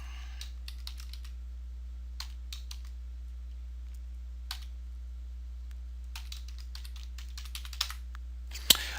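Computer keyboard typing: faint, close key clicks come in scattered bursts over a steady low electrical hum, with a slightly louder click near the end.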